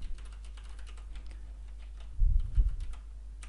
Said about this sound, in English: So I will go ahead and type in my parameters again here